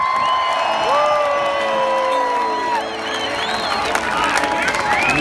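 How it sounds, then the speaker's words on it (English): Crowd cheering and whooping at a concert at the Buffalo Chip in Sturgis in 2015, a loud continuous roar with whistles and shouts throughout. "Give yourself a round of applause."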